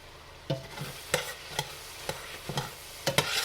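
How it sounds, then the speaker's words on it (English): Garlic fries with wilted vegetables in a pot for homemade chili, a soft sizzle under repeated sharp scraping taps of a spoon, close-up and fairly quiet. "If they have, then I can add the garlic."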